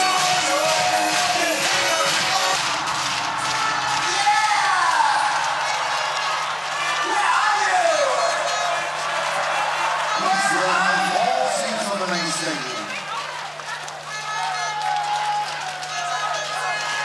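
Large indoor crowd at a badminton World Championship final in 2013 roaring and cheering continuously, loud and sustained with rising and falling swells throughout.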